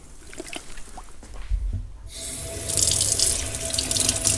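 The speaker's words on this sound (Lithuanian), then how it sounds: "praplaunu vandeniu" Some soft handling clatter comes first, then a steady rush of tap water splashes as fish such as chilled mackerel and eel are rinsed under it in a sink.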